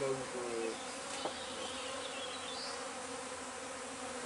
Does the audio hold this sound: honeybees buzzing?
yes